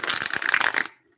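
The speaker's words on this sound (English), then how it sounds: "Let's shuffle some cards." Tarot cards are shuffled in a quick, close, crisp riffling burst lasting about a second, then the sound stops abruptly.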